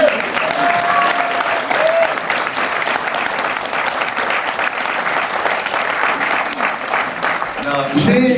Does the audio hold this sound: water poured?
no